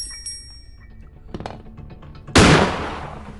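A shotgun in the Granny horror video game fires one sharp, loud blast that cuts in suddenly and rings out over a short decaying tail, following a few faint clicks and clinks.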